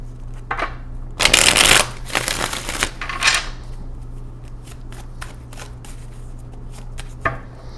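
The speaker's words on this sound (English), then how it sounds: "All right, last shuffle." Tarot cards being shuffled in quick riffles, a loud burst followed by softer flicks and taps, close up with no talking.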